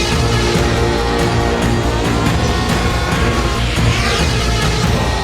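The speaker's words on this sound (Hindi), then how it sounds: "अब ये तो ड्रोन कैमरा है, लगता है हमारा पीछा कर रहा है।" A drone camera flies overhead, its loud, steady mechanical whir filling the air with a shifting buzzing drone that holds constant throughout.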